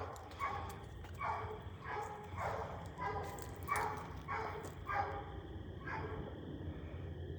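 A hound dog bays repeatedly at a tree during a night hunt, about seven evenly spaced barks carried from a moderate distance over a steady low background hum.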